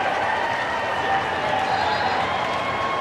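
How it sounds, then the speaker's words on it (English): A hockey game crowd applauds a goal with sustained, dense clapping and scattered cheers filling the arena, loud and steady throughout, with faint talk underneath. "Johnny Landis gets his first goal, and he gets the loudest applause."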